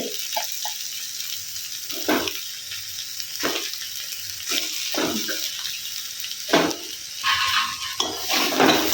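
Fish and peeled boiled potatoes sauté in a pan, a bright hissing sizzle interrupted by repeated scraping and stirring strokes, loudest near the end, with nobody speaking.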